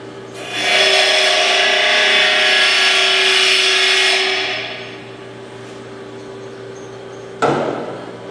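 A stainless steel test piece is pressed against a grinder for a spark test, giving a loud, steady, close-up grinding hiss for about four seconds that fades as it is pulled away, then a short sharp contact burst near the end.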